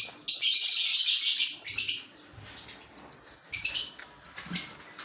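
A ringneck parakeet mother and her babies call in sharp, shrill chirps that come in bursts, loud and close, separated by short quiet gaps with faint rustling.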